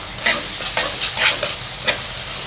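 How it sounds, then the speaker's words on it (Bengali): Onion and ginger garlic paste are stirred in a frying pan: loud crackling sizzle with five or six quick spatula scrapes in an uneven rhythm, close by, no speech. "এখন আমি পেঁয়াজের সাথে আদা রসুনের পেস্টটা একটু ভালো করে মিশিয়ে নিচ্ছি।"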